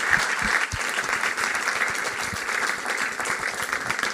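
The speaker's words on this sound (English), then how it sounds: "one last big round of applause for our panelists and Mark Kass" An audience applauds panelists and their moderator at a public event, a dense, steady round of clapping from a room full of people lasting the whole few seconds.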